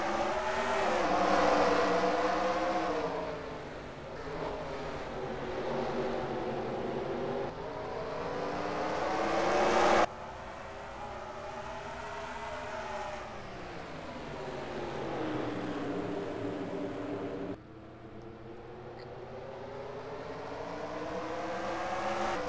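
Race cars in a racing video game roar around the Martinsville short track, engines rising and falling in long revving sweeps with abrupt cuts, a loud, continuous pack sound with no voices.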